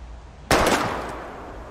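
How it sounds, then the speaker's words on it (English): A single sharp gunshot cracks in the video game Life Is Strange, fired at bottles, loud and sudden after a quiet moment, then a lingering decaying tail. "We're gonna shoot all these bottles without wasting a single bullet."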